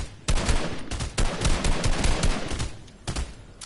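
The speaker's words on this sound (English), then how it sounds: "I guess we're shooting now." Rapid bursts of video game gunfire, dense and loud, crackle in repeated volleys with short pauses between them, automatic weapon fire filling the whole stretch.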